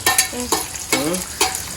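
Grated coconut stirred and dry-roasted in a pan, giving a few scraping stir strokes with a light crackling sizzle underneath, close and fairly loud over a short stretch.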